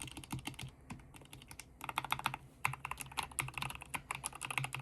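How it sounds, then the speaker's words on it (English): Rapid typing on a LOFREE Block wireless mechanical keyboard, close and crisp, with dense clicky keystrokes in bursts and brief pauses, no voices. "I love the sound of these keys. Just listen."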